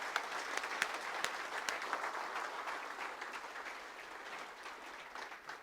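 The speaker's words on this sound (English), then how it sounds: "Let us give them a massive round of applause." Audience applause at a Young Farmer of the Year awards night, a broad wash of clapping from a crowd in a room that slowly thins and fades toward the end.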